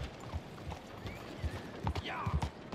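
Horse hooves clip-clopping in the video game Red Dead Redemption 2, an uneven run of close thudding steps with a voice talking over them.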